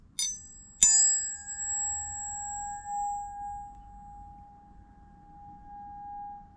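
A titanium hip implant is struck twice in quick succession and rings like a tuning fork, a clear, pure metallic tone that sustains for several seconds and slowly fades in a quiet room.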